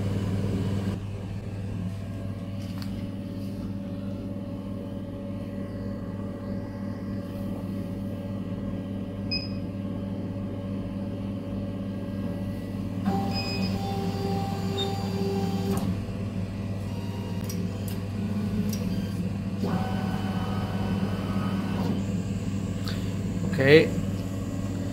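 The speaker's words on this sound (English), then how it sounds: "you need to reset the machine and homing the axis" An HL CO2 laser machine resets and homes its axis, giving a steady low motor hum throughout with brief stepper whines and small clicks partway through, ending in a short sharp knock.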